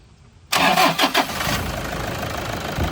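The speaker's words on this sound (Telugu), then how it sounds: "ఇంజన్ అయితే సింగిల్ సెల్ఫ్లో అయితే స్టార్ట్ అవుతుంది" A Toyota Innova V diesel engine cranks and catches on a single start after a quiet moment, with a loud burst of sputtering firing that then settles into a steady, lower idle rumble.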